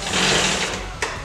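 Rear wheel of a 2004–2021 Yamaha YFZ 450 quad, out of gear, spinning freely after a brake rotor replacement, giving a steady close whirring hum with a short sharp accent near the end.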